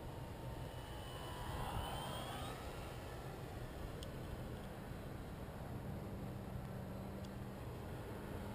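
A Dynam electric Waco RC model biplane cruises overhead in the late evening outside Fort Worth, its motor making a steady, moderately distant drone that swells slightly as it passes, with no talking.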